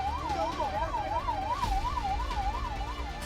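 An emergency siren wails steadily during a blackout mock drill in Uttar Pradesh, its rising and falling tone repeating evenly over a low rumble of street traffic.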